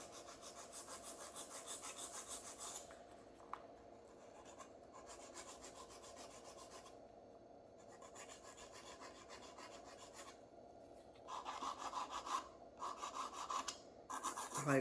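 Acrylic nails on a mannequin practice hand are filed in steady rasping strokes, with pauses between bursts and faster, harsher scraping near the end, close and without talk.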